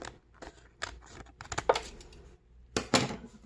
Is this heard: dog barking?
no